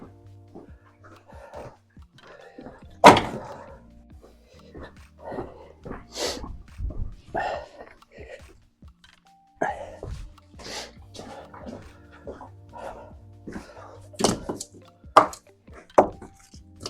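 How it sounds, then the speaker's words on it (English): A log being processed into kindling for a campfire at a remote bothy, with irregular close knocks and cracks of wood being split and broken, scattered among quieter rustling and handling sounds. "I'm going to process this log down."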